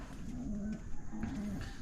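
Pigeons in a loft coo in soft, low, warbling phrases nearby, repeated twice over a muffled background rumble.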